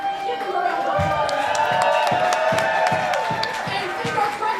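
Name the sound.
audience applause for the bartenders at a wrestling event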